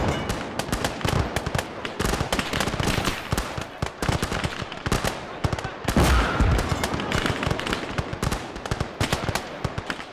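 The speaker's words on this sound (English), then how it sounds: "Oh, something big exploded up there." A WWI battle in the Isonzo, Italian Alpini against Hungarians, roars with dense crackling gunfire and a heavy explosion near the middle, continuous and loud throughout.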